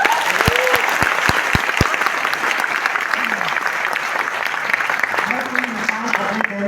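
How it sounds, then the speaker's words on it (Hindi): An audience at a product event in Delhi breaks into loud sustained applause, a continuous wash of clapping with a few sharp knocks early on and voices mixed in. "तो आपकी जबरदस्त तालियां होनी चाहिए प्रोडक्ट के लिए"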